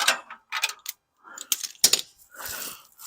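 Socket wrench working a Porsche motor mount bolt, giving a series of short metallic ratcheting clicks and clanks in separate bursts with brief pauses between them.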